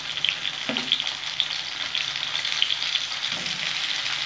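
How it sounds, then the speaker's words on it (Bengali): Potatoes sizzle in oil with onions already fried red, a continuous close frying hiss with a couple of spatula scrapes and no talking. "আলুটা আমি ভেজে নেবো"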